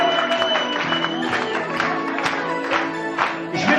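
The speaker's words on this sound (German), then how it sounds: "Können wir denn überhaupt noch klatschen?" Audience clapping in a German music setting, a dense steady patter of many hands sustained throughout with a faint voice or crowd murmur underneath.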